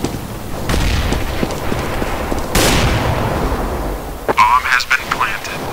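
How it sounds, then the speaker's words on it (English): A grenade goes off in a tactical shooter game: a sharp blast lands early and a second broadband burst follows midway, amid continuous gunfire and crackle, with voices talking over the noise near the end. "Grenade out."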